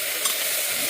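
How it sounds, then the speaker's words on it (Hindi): Bottle gourd curry sizzling hard in a pan as it is tempered, a dense, steady close-up hiss of frying with no pauses. "मैंने लौकी की सब्ज़ी छौंक दी थी डैडी के लिए"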